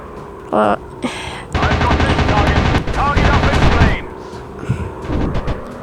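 Rapid machine-gun bursts fire at planes in a warplanes combat video game, loud and sustained for a couple of seconds, with shorter shots before and after.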